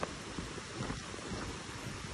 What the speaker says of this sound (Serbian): Tako da, evo kiše